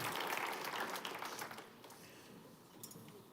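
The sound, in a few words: church congregation applauding the Lord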